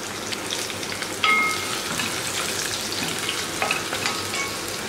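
Shallots dropped into hot oil with lightly browned garlic and ginger in a pan, giving a steady close sizzle with a brief louder burst of crackling as they go in, no voices.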